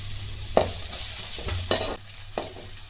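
Chopped onions sauté in a pan with ginger-garlic paste, giving a steady high sizzle broken by a few distinct scraping stirs of the spatula, close by and with no voices.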